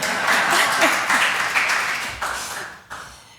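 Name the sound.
audience applause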